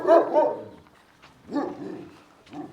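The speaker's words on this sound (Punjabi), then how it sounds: "ਪਾਕਿਸਤਾਨੀ ਜਿਹੜੀ ਪਹਿਲਾਂ ਬਰੀਡ ਚੱਲਦੀ ਸੀ ਬੁੱਲੀ ਉਹ ਬਰੀਡ ਦਾ ਕੁੱਤਾ ਵੀ ਇਹਨਾਂ ਨੇ ਰੱਖਿਆ ਹੋਇਆ" A Pakistani Bully breed dog barks in three separate bursts with pauses between them, fairly close and moderately loud, with no talking.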